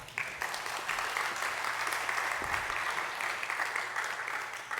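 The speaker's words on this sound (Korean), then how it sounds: "박수 하실까요?" A church congregation applauds steadily, a dense even wash of clapping held for several seconds at moderate distance.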